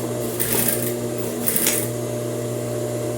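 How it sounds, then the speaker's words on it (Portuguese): A sewing machine stitches fabric for a blouse, beginning with a backstitch; its steady close motor hum carries throughout, with two brief louder bursts of higher whirring early on. "vou costurar toda a volta. Inicio com o retrocesso"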